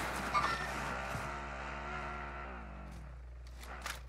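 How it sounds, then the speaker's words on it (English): An enemy vehicle drives in Warzone, its engine droning steadily and shifting in pitch as it moves, moderately quiet, with no voices. "Somebody just got in this vehicle. Enemy vehicle!"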